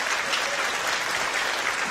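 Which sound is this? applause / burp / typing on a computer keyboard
applause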